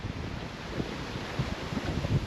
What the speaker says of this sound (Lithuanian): Ateina čia tas vėjas, pučia turbūt kokie, nu, buvo čia iki 10-12